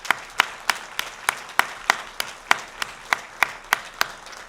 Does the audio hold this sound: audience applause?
yes